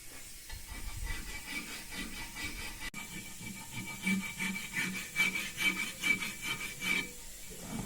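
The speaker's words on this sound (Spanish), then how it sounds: "poder empezar a pasar primero la lija del 60" Sandpaper of 60 grit rubbed across a carved stone surface, a steady close rasping scrape in repeated strokes with a faint whine in the background.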